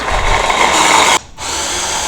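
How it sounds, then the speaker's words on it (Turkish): Electric blender whirring as it mixes dates and nectarines for a fruit sauce, a loud steady motor drone that cuts out briefly near the middle and then resumes at a similar level. "Meyvelerimizi mikserde karıştıracağız."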